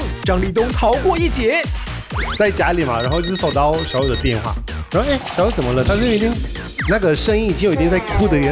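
A telephone ringtone chirps briefly in a repeating pattern, partly buried under lively conversation between several people in a talk-show setting.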